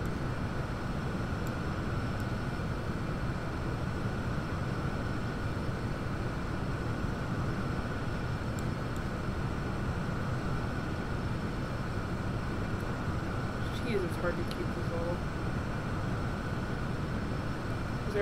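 A light airplane in flight in the X-Plane 11 flight simulator game, a steady, loud broadband engine and wind drone held throughout, with someone briefly speaking over it.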